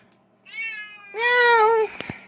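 A desert lynx cat gives two drawn-out meows close by, the second louder and longer, followed by a couple of faint clicks.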